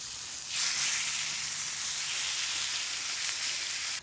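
Meat sizzles and fries in a pan, a loud steady hiss that swells sharply after half a second and stays close and continuous with no talking.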